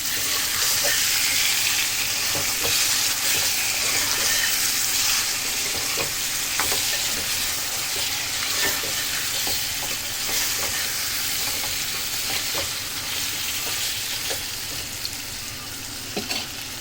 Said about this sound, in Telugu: ఉల్లిగడ్డలు ఫ్రై అయిన తర్వాత ఇప్పుడు నేను చికెన్ ముక్కలు అయితే వేసుకున్నాను.